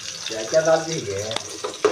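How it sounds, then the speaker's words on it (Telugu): Chopped onions deep frying in hot oil and ghee for mutton biryani, a close, steady hiss with a brief humming tone layered over it partway through. "దీంట్లో ఎర్రగడ్డలు వేసి బాగా డీప్ ఫ్రై చేస్తున్నాము"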